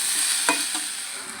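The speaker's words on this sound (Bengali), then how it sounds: "এবার আমি 5 মিনিট ধরে ভালো করে কষে নেব মশলাটাকে" Spice paste with chilli powder being stirred and fried for a potato dum curry, a short steady sizzle broken by two quick spatula scrapes, close and with no talking.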